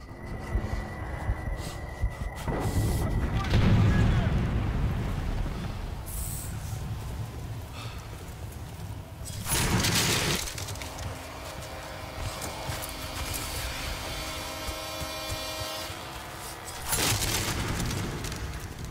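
Rocket explosions in the video game Battlefield Bad Company 2, with heavy booming blasts around three, ten and seventeen seconds over a steady rumbling battlefield background.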